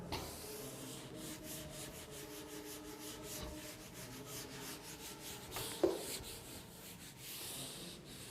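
Writing is rubbed off a board with faint, dry, scratchy back-and-forth strokes that continue steadily, quiet and close, with one slightly louder scrape partway through.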